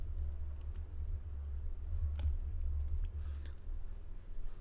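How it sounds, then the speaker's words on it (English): A few soft computer keyboard keystrokes for entering a date, faint and scattered over a steady low background hum, with no speech. "So let me type the date"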